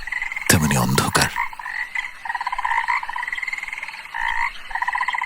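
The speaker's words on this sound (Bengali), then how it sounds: "মনের আনন্দে ব্যাং ডাকছে।" Frogs croak in a stretch of pond water at night after rain, a steady rhythmic chorus of repeated calls running throughout, preceded by a short loud burst near the start.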